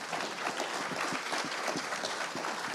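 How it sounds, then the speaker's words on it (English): Steady applause from a conference audience after a speaker finishes, dense clapping at an even level, moderately distant and without voices. "please give a warm round of applause for our speaker"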